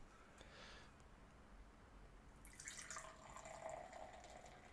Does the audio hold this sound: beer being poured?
yes